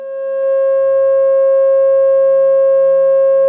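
A pure tone at 540 cycles per second holds steady and loud for several seconds, a clean unwavering hum with no other sound around it.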